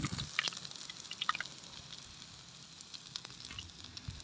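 White rat meat frying in hot oil in a home kitchen: a steady close sizzle with scattered pops and crackles throughout, no talk.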